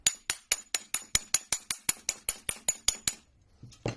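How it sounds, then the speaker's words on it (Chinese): A dimple punch tool is struck hard about fifteen times in a steady, even rhythm to lock four overlapping layers of cable trunking. Each blow is a sharp, close metallic clank, and a short pause comes before a final faint knock. "我们通过这个打窝器1、2、3、4把它重叠4层之后把它锁住，像这样子用力的敲打啊"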